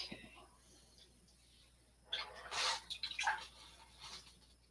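A paintbrush swished and rinsed in a water container during an acrylic painting session, giving a quiet stretch followed by a couple of seconds of splashing, clinking swirls up close.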